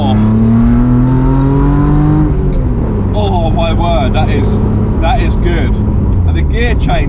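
A Rocketeer V6-swapped Mazda MX-5 engine revs hard and climbs through gears, loud and close from inside the car, with excited voices talking over it.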